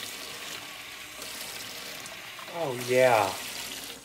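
Water runs from a tap to fill a pet ball python's dish, a soft trickle that swells into a brief rising pour near the end, while a voice speaks quietly over it.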